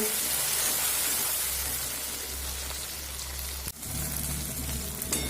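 Ground spice paste with blended tomato fries in hot oil in a pan, a dense, steady sizzle heard close up throughout, briefly dipping near the end before resuming.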